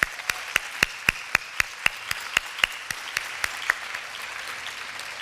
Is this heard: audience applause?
yes